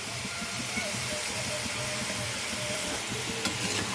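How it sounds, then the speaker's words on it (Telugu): Onion pieces sautéing in a pan with salt and turmeric for a drumstick pulusu, sizzling steadily and close, with rhythmic scraping stirs of a spoon throughout. "ఉప్పు పసుపు వేస్తే ఉల్లిపాయ తొందరగా మగ్గుద్ది చూడండి"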